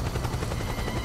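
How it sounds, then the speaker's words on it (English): Helicopter in the video game Metal Gear Solid 4, a steady droning rotor chop with low rumble, continuous and fairly loud throughout the short moment with no talking. "That's a helicopter."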